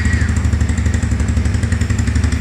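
A 2023 XPRO Strom DLX small dual sport motorcycle runs on a freezing cold day, its single engine idling in a steady, close, rapid thumping putter with light mechanical clatter.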